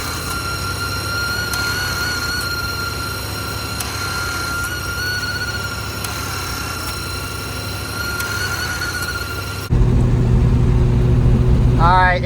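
A 1987 Pontiac Firebird that sat unused for 22 years cruises down the road, its engine and road noise forming a steady, loud drone heard from inside the car, with a sharp shift in tone near the end.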